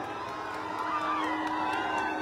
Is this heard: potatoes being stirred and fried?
no